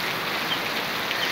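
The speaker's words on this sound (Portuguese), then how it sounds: "Deu uma pancada de chuva. Bem forte" Sudden heavy rain shower pouring down outdoors, a dense unbroken hiss of falling water that stays loud and steady throughout, with no talking.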